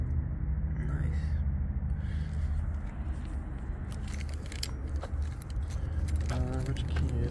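Keys jangle near a Russian-imported R34 Nissan Skyline, clinking in bursts over a steady low engine or road rumble, with people talking nearby throughout.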